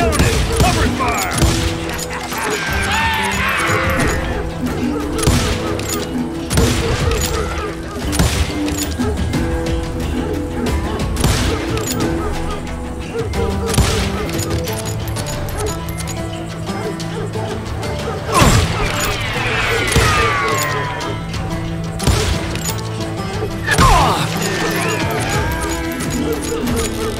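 A dense shootout in the Western video game Call of Juarez Gunslinger, with continuous cracking gunshots over loud music and sound effects throughout, punctuated by heavier impacts.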